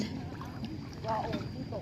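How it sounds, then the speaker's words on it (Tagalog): A boat motor rumbles steadily as a boat departs from a calm, waveless beach, under wind and lapping water, with faint voices talking nearby. "Paalis na ang bangka."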